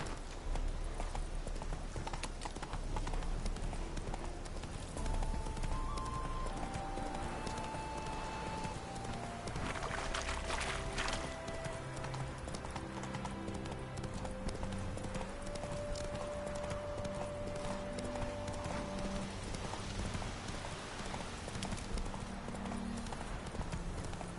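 Horse hooves clip-clopping in a steady galloping rhythm from the video game The Witcher 3 on PS4, continuous and fairly close, with faint game music tones running underneath and no speech.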